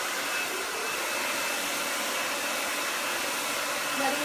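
A hair dryer runs steadily while blow-drying hair over a round brush during salon blow-dry training, a continuous close airy whoosh with no pauses.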